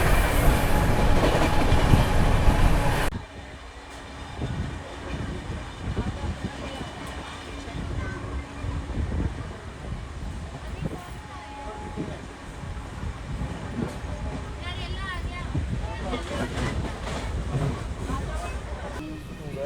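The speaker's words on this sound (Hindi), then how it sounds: "ट्रेन दौड़ रही है बढ़िया रफ्तार में" The 12380 Jallianwala Bagh Express from Jalandhar to Delhi rolls along at speed, a steady broad rumble of wheels and carriages with rhythmic clatter and a burst of loud wind noise at the start, voices faintly present.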